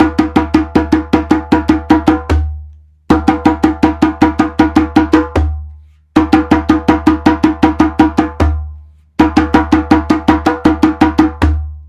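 A djembe plays a very fast rhythm pattern in four repeated phrases, each a rapid run of crisp slaps and tones ending in a deep bass stroke and a short pause, loud and close with no talk.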